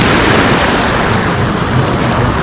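Sea waves rolling and breaking on a pebbly Black Sea beach at Lazarevskoye, a loud continuous wash of surf and churning water with wind buffeting the microphone, no pauses and no voices.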